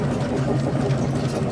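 A steamroller's steam engine runs at an agricultural show, a steady, close, mechanical chugging and rumbling hum that holds an even rhythm throughout.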